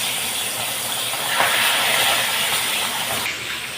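Fish frying in hot oil, a loud, continuous broadband sizzle that holds steady throughout and swells slightly midway, with no voices.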